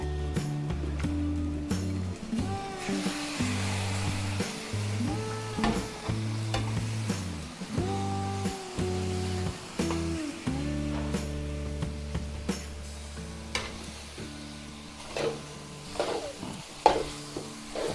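Marinated meat frying and sizzling in a pan while being stirred for a Filipino fiesta dish, with a steady hiss under it and scraping stirs that come and go throughout. Background music plays along with it.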